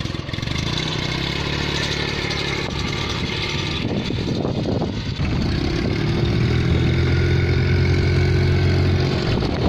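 An Invacar invalid carriage engine drives along in gear during field fun, a loud steady mid-pitched drone that dips briefly around the middle before resuming, with no talk over it.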